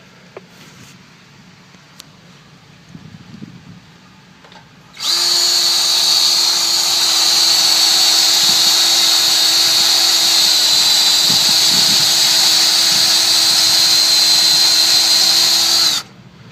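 A power drill with a worn bit whirs loudly and steadily for about eleven seconds while drilling holes to mount a Kawasaki Teryx 4 front bumper, after a quiet stretch, then stops abruptly.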